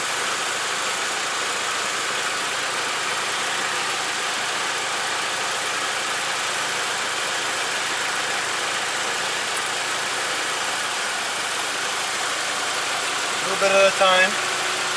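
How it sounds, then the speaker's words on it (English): A car engine idles during an AC system recharge, a steady close hum throughout, with a brief voice near the end. "Let it idle."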